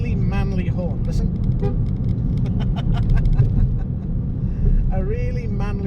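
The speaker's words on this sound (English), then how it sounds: "it's got a really manly horn" A project car's horn sounds in short sustained blasts at the start and again near the end, with steady wind and engine noise underneath.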